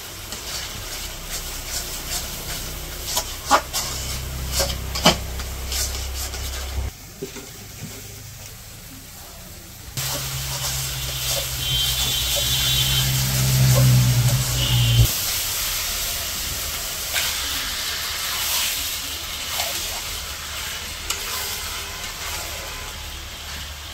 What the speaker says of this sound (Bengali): মাংস দিয়ে মশলার সাথে কষিয়ে দিতেছে